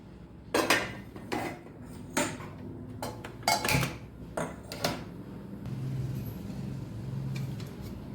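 A metal kadai clanks and scrapes several times in quick separate knocks, close by, followed by a quieter stretch of low background hum.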